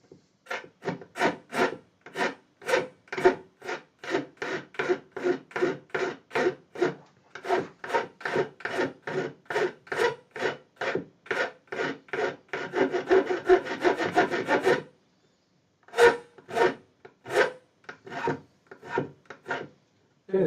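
A file scrapes and bevels the fret ends on a DIY Telecaster guitar neck, producing steady rhythmic back-and-forth rasping strokes up close, with a faster dense run near the end, a brief pause, then more strokes; no voices.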